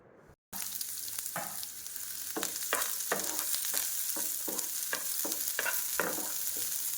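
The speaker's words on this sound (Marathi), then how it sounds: "प्रथम कांदा फोडणीमध्ये घातला आहे।" Onion sizzles in a little hot oil with mustard seeds and cumin, a steady bright hiss punctuated by repeated scraping stirs of a spoon, starting after a brief moment of silence.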